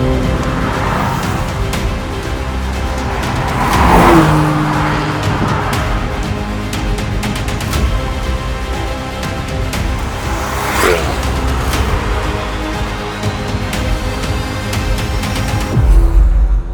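A Maserati Grecale SUV drives along with a steady, full engine and road roar throughout, swelling briefly around a few moments, with no voices heard.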